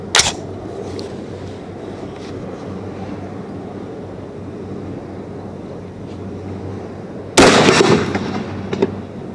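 A Ruger SFAR .308 rifle fires at an outdoor range: one sharp, loud shot near the end cracks over steady background noise, after a brief smaller transient at the start.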